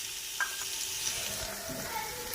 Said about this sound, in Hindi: 1 मिनट तक इसे फ्राई करेंगे।